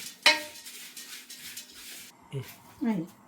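Dry poha (flattened rice) stirred in a hot pan, with a sharp metallic clink of a spoon at the start, then soft scraping and rustling stirs and a couple of later scrapes against the pan.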